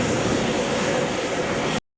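A steady, broad roar of aircraft engines and rushing air as an airplane starts moving at Haneda Airport, loud and continuous, cutting off abruptly near the end.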